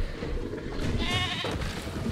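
A goat bleats as a Giganotosaurus attacks it in the Jurassic World video game, a single wavering, strained bleat rising over a dense, rumbling game soundscape, loud and close.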